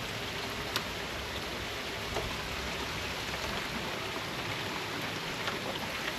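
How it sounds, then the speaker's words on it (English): Hard, steady rain pours down outside, a dense constant hiss with scattered faint drips and ticks throughout, no voices over it. "It's actually raining hard enough today that I'm worried about the basement."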